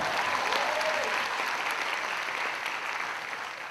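Audience at a close-up magic show breaks into steady applause, a dense even clapping that stays strong throughout and tapers only slightly at the end.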